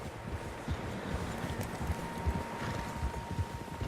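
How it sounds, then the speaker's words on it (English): Several horses trot across open ground in Red Dead Redemption 2, their hooves giving a steady muffled clip-clop under wind and outdoor ambience, fairly close and without speech. "Horses, quite a few of them."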